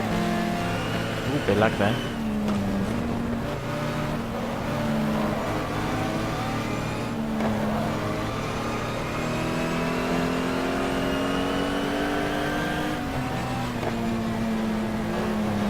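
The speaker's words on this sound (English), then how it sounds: "There goes that Nissan in the NGT class. Let him go past as well. That's a Porsche." Nissan and Porsche race cars in the GTR2 racing game rev and whine past one after another at Spa, engine pitches rising and falling through the clip, with someone talking over the loud engine noise.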